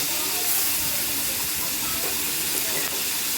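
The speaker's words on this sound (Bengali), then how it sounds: "দিয়ে এটাকে আমি ভালো করে একটু লালচে লালচে করে ভাজবো" Chopped onion, green chili and garlic fry in oil with a dense, steady hiss and sizzle throughout, close and fairly loud, with no talk.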